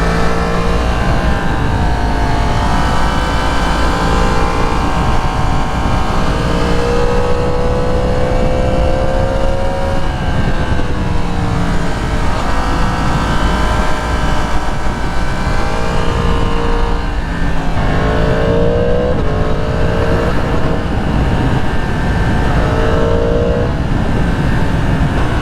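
A 2022 Yamaha MT-10 SP motorcycle is ridden with its engine roaring loud and close throughout, rising and falling in pitch as it accelerates and shifts gears, with constant wind noise.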